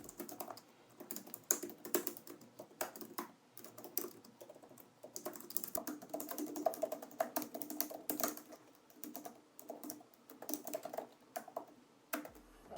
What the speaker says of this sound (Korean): 지금 키보드를 타건을 하면서 소리가 좀 어느 정도 달라졌는지 실제로 들어볼게요.